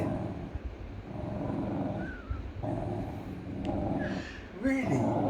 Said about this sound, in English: Yeah, she's growling.